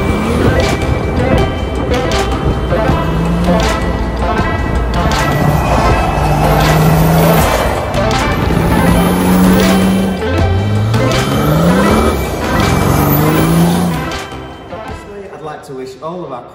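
1988 Mercedes diesel G-Wagon drifting and doing a burnout, engine revving in repeated rising pulls with scrabbling tyre noise, loud and close, while someone talks over it before the sound fades away at the end.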